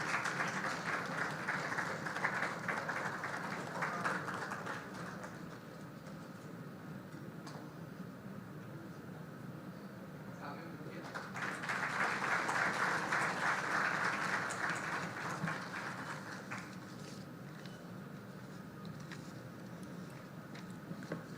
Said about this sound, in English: Can we have a warm applause?